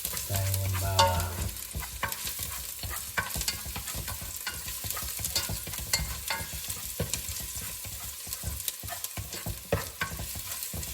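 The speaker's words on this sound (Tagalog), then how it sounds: "Yung una nating nagigisa ay ang bawang" Garlic sautéing in a pan for Filipino tinolang manok chicken soup, a steady close sizzle with frequent scraping and clinking as a utensil stirs it, continuing without any voices.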